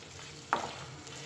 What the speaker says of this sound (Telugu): ఇవి కలర్ చేంజ్ అయ్యేంత వరకు ఫ్రై చేసుకోవాలి.